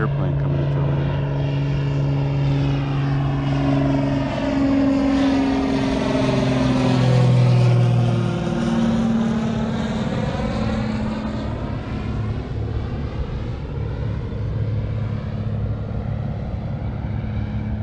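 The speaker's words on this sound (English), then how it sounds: "Airplane coming into the land." A propeller airplane comes in to land by a beach near a pier, its engine drone swelling as it nears overhead and then easing away, loud and sustained throughout.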